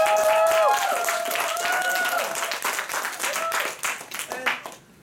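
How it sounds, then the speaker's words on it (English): Audience applause at a Toastmasters meeting, a dense round of clapping that starts loud and gradually thins out over several seconds, with voices and cheers mixed into the crowd. "Let's give Joy a big round of applause."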